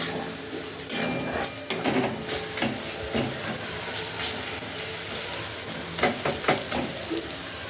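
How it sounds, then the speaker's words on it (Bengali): Onion frying in a pan while cooking a jackfruit and prawn curry, a steady close sizzle with occasional stirring scrapes and light clinks of a utensil against the pan. "পেঁয়াজটাকে আগে একটু লাল করে ভেজে নিলাম।"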